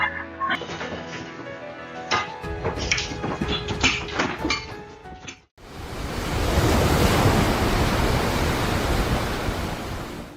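Ocean waves crash loudly in a dense, steady roaring surf with wind-like hiss, following a stretch of music that cuts out abruptly.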